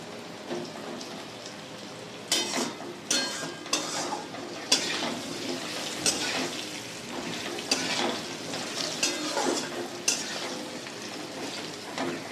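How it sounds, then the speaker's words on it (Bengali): Potatoes sizzle and crackle in a hot pan, with intermittent scraping stirs punctuating the steady frying hiss. "আলুগুলো মোটামুটি ভাজা হয়ে গেছে আর বেশি ভাজবো না"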